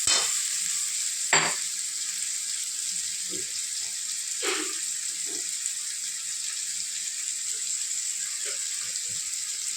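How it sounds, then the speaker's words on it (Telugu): Raw crushed garlic frying in a pan with tomato for a Tamil Nadu style aaku pappu sambar, stirred with a ladle: steady close sizzle with occasional scraping knocks of the ladle. "తెల్లగడ్డలు మనం పచ్చిగా దంచినటువంటి వెల్లుల్లి అందులో వేసి బాగా గరిటెతో తిప్పుతూ ఉండాలి"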